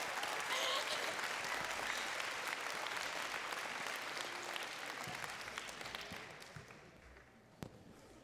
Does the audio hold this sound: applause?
yes